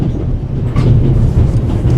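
A train rolls along rails in the video game The Raven, a loud, steady low rumble with faint rhythmic clatter and no talking.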